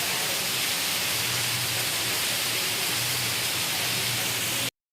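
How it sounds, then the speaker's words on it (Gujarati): Heavy rain driven by strong wind that bends the village trees, a dense steady hiss of downpour running loud and unbroken until it cuts off abruptly near the end. "અહીંયા જો આ બધા ઝાડવા નમી ગયા એકદમ પવન છે"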